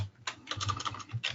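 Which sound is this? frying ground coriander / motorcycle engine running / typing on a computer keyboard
typing on a computer keyboard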